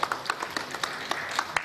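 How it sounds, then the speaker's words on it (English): Applause for a presenter at a tech conference: scattered, uneven clapping bursts from an audience, brief and moderately quiet, with no talk over it. "Again, big round of applause for Aman."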